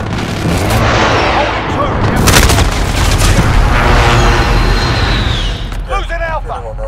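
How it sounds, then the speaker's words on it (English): Airstrike explosions boom during a Domination match in Call of Duty Modern Warfare 2019 multiplayer, a dense run of loud, heavy blasts and rumbling gunfire that ends in brief chatter. "Domination airstrike inbound."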